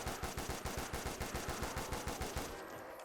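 Rapid automatic fire from the SMR rifle in Black Ops 3 Tranzit, a steady stream of loud, evenly spaced shots for about two and a half seconds before trailing off into echo.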